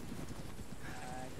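Horse hooves clip-clopping in a military shooter game, faint and steady beneath low wind-like noise.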